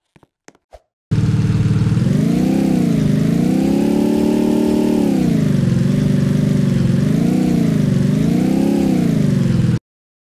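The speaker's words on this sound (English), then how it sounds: "Our engine revving effect is working." A synthetic Roblox game car engine drones steadily for several seconds, its pitch rising and falling in repeated revs, preceded by a few brief clicks.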